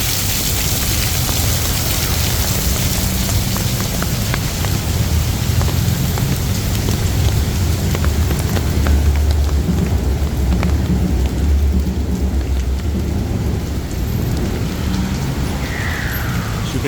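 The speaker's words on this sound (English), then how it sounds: "that's always the thing with the rain in Bangkok" Heavy rain pours steadily on a Bangkok street corner on Sukhumvit Soi 15, a dense loud hiss with low rumbling thunder rolling underneath throughout, no voices.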